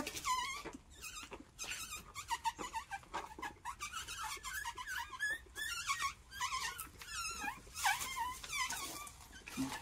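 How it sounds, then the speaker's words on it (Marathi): Several dogs whine, yelp and howl in a continuous, overlapping chorus, fairly close and loud, with no talking. "काय कुत्र्यांचा आवाज येऊ राहिला?"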